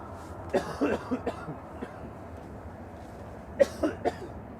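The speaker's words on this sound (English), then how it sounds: "Big cough before this goes." Several short coughs in two clusters, a burst of three or four near the start and another group near the end, over steady background rumble at Manchester Airport.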